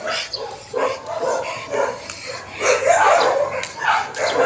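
Aggressive dogs bark repeatedly near an open gate, sharp overlapping barks and yips coming in quick bursts at close range.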